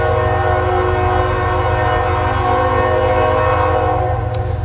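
A train rolls by sounding a long, loud, steady horn chord over a continuous low rumble, unbroken for several seconds with no speech.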